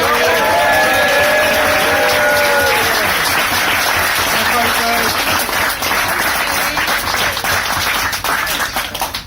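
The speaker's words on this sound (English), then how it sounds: "Big cheer! Well done, boys!" Loud applause and cheering fill a boat on the way home from a charity Scumrun, with whoops and shouts over dense clapping that tapers off slightly toward the end.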